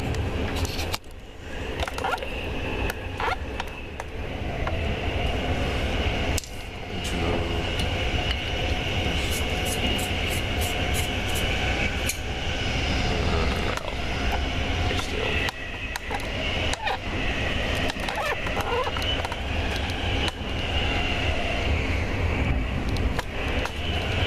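A train running at speed, about 110 kilometres an hour through farmland: a loud, steady rumbling roar with rattling and clicking on the rails throughout, heard from on board.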